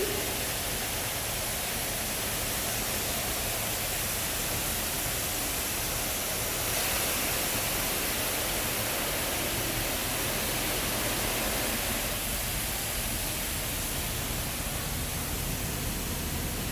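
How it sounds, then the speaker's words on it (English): Spot-free rinse water spraying over a car inside a soft-touch automatic car wash, a steady loud hiss of spray that shifts slightly partway through, with no talk. "And now we'll have the spot-free rinse."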